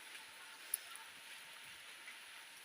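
Steady, faint rain falls as a soft, even hiss with a few scattered drop ticks, quiet and continuous with no voices.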